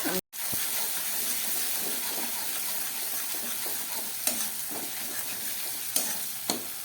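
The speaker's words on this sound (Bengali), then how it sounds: "পেঁয়াজ রসুন টমেটোটা খুব ভালো করে ভেজে নিলাম।" Green chili paste frying in a pan with onion, garlic and tomato for an aloo dum: a constant loud sizzle and hiss, broken by a few sharp spoon scrapes and clinks near the end.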